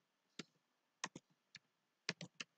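Computer keyboard keys tapped while writing Python code, about eight crisp clicks in small bursts, close and clear over a quiet room.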